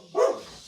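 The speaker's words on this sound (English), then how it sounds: "The dogs are here too, as you might hear." A dog gives a single short bark on a horse farm, close and fairly loud, then fading into quiet room tone.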